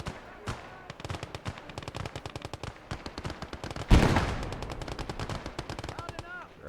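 Rapid machine gun fire in a video game battle, a fast rhythmic stream of loud shots with a heavy blast midway, followed by continued bursts and faint background voices.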